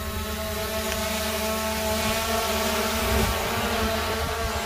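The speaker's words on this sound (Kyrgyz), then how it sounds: "Жаңы дрон. Ушу менен азыр учурабыз." A DJI Air 2S drone flies nearby with a steady, whining propeller buzz, even and continuous throughout, heard alone with no talking.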